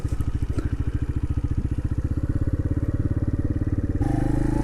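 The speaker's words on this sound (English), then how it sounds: "When you want to change up to second, you then roll off the throttle, pull the clutch in, pretty much the same time." A motorcycle engine runs close and loud with a steady, rapid pulsing note, then its tone drops abruptly near the end as the rider rolls off the throttle and clutches in to change up from first to second gear.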